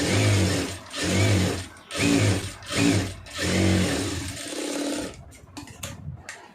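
A sewing machine stitches a folded quarter-inch edge on a blouse in close, loud bursts of rapid running stitches separated by brief pauses, ending in a few lighter handling clicks.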